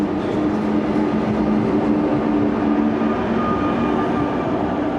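Steady rumble of a moving train carrying a passenger, with a constant low drone and faint humming tones rolling on evenly and loudly, no voices.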